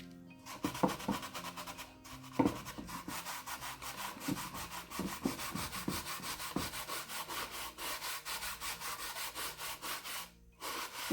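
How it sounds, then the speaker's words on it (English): Gel stain is rubbed into a dry old wooden box with steady, close scrubbing strokes, a continuous rhythmic rasp that runs without pause. "Which is why I'm rubbing more, so that I can bring the grain back out"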